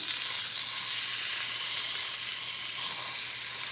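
Bacon-wrapped salmon fillet frying in a pan, a steady close sizzle with constant bright crackling and hiss and no voices.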